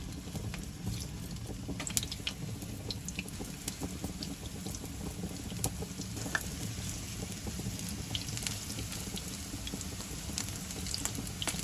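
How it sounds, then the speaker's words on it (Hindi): Small tikki patties for kadhi pakora fry in hot oil, giving a steady, close sizzle with scattered crackles and pops that continues unbroken throughout. "टिक्कियाँ हमारी तैयार हो चुकी हैं, हमने सारी फ्राई कर ली हैं"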